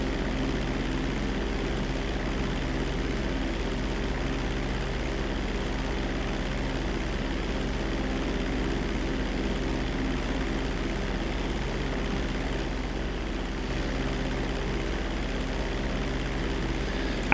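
A propeller plane in Grand Theft Auto 5 drones continuously at a steady, moderate level, a low engine hum with no voices.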